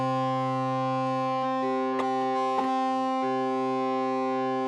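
Sine wave played through the distortion effect of a Hydrasynth synthesizer, a sustained buzzing tone rich in added harmonics that shifts pitch a few times and has brief clicks.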